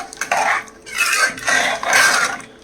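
A spoon scrapes and swirls through water inside a metal pressure cooker in three loud strokes, each rising and fading, with brief gaps between them.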